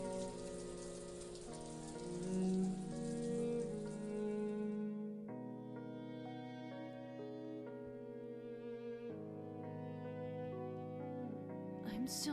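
Torrential rain pours in a steady, dense hiss, loudest early on, beneath sustained music tones that shift chords every few seconds.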